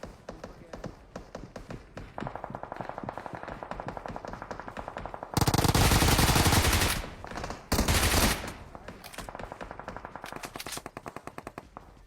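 Rapid bursts of Bizon submachine gun fire in PUBG Mobile, with steady trains of close, crisp shots. Two dense, louder stretches of fire in the middle, while someone talks over the shooting.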